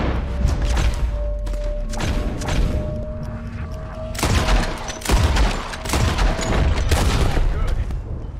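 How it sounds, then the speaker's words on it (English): Loud gunfire from a Red Dead Redemption 2 shootout, with repeated sharp shots and booming blasts over a dense, noisy battle din. "The gunshot."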